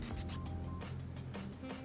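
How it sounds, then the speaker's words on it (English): Buffer or file rubbing across a polygel nail surface, a close, quiet scratchy rasping in quick repeated strokes, with no voices. "just keep buffing into it or filing it until it's all gone."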